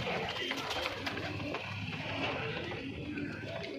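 Punjabi Malwai pigeons cooing steadily at close range, a continuous low burbling chorus with other bird calls mixed in and faint background noise throughout.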